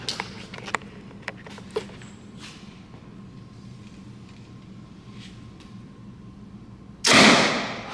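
A 350-grain hot rod arrow leaves a Mathews ARC compound bow with a sudden loud release near the end, after scattered faint clicks and thumps over a quiet room hum.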